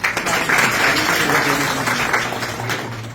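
A school class breaks into loud, sustained applause from many hands clapping together in a classroom, dense and close, fading slightly at the end.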